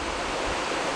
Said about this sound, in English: Absolutely beautiful waterfall.